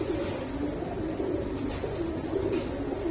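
Pigeons coo softly and repeatedly against a steady murmur of background noise at a pigeon sale, with no talking.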